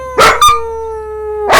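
A dog gives a few sharp, close barks in quick succession, then a pause before another bark, all over a steady electronic tone in the background.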